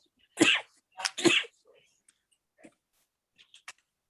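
A close sneeze bursts out in two or three sharp explosive bursts in a quiet courtroom, followed by faint small sounds and near silence.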